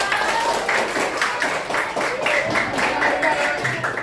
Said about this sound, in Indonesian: Oke, tepuk tangan dulu untuk kita ya.